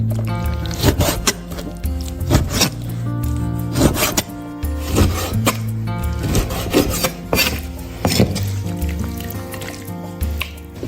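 Chicken legs are chopped into mahjong-tile-sized pieces on a cutting board, a busy run of sharp irregular knife chops and thuds close up, with cooking music running underneath.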